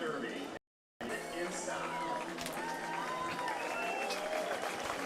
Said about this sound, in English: Greg Vaughn Jr. all smiles as the fans begin to give him a round of applause here.